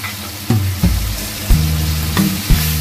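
Spice paste sautéing over a low flame in a pan while jackfruit is cooked, a steady sizzle broken by four or five louder stirring scrapes and knocks at regular intervals.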